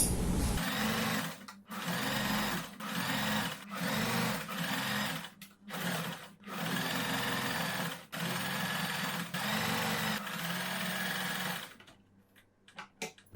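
A sewing machine stitches the seams of a girls' summer dress in about ten evenly spaced bursts of close, steady whirring, each broken by a short pause, then stops into near silence.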